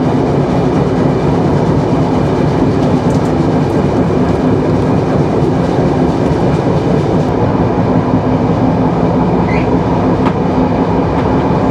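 The Chitra Express rolls at speed across the new Jamuna rail bridge, a loud, unbroken roar of wheels and carriages with steady rumble and faint rhythmic clatter throughout.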